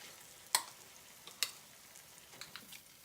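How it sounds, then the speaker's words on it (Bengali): Potato mix for pav bhaji is stirred into masala frying in oil, giving a few sharp scrapes and clicks over a faint, quiet sizzle. "খুব ভালো করে মিশিয়ে নিচ্ছি মশলাটার সাথে।"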